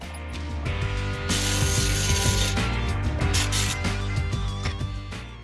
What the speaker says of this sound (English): I'll grab my corded impact and I'll go ahead and put it on the rest of the way.